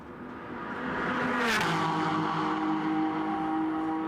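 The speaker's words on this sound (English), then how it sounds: "Watching the cars blast down" GT race car roaring past on a Beijing street circuit during SRO GT Cup pre-qualifying, the engine note swelling to a sharp Doppler peak then holding a steady drone, heard from a rooftop.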